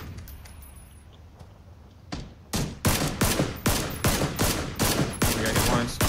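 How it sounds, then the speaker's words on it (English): Gunfire in the battle-royale game PUBG: after a quieter start, about eight loud, sharp shots ring out in fairly even succession, each with a short decay, with no clear speech over them. "I'm getting shot from the left too. I'm getting shot from everywhere."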